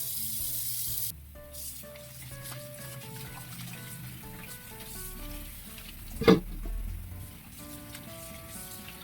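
Garlic fries in oil in a pan for a cabbage and pechay dish, giving a steady soft sizzle throughout, with a single sharp clatter partway through and a faint background tone.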